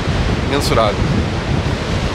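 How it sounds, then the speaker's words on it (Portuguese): Strong wind roars steadily into the microphone over a rough, heavy sea surf on a beach in Rio Grande do Sul, a dense continuous wash with a brief voice cutting through partway. "muito vento, o mar tá muito alto, violência do mar, o mar tá em fúria."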